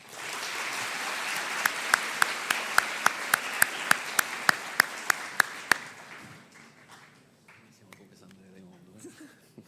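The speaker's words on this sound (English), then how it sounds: "So with an enormous round of applause, let's welcome here on stage our CEO and founder" Conference opening-ceremony crowd applauding as the founder takes the stage, sustained dense clapping with sharp rhythmic accents that dies away after about six seconds, leaving quiet room sound.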